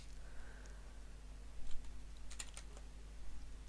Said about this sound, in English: I know you're going to hear my typing through this